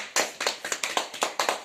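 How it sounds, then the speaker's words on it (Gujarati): An audience at an Independence Day cultural program claps together in a steady, rhythmic beat, with about eight sharp, evenly spaced bursts, close and lively, with no talking. "હવે માહિનભાઈ માટે જોરદાર તાળીયા"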